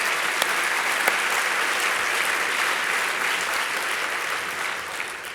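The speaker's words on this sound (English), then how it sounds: "Yes, I think that's worthy of a clap. Let's do that." A luncheon audience claps in a thick, steady wash of applause that holds for several seconds and eases slightly toward the end, with a few sharper claps standing out early.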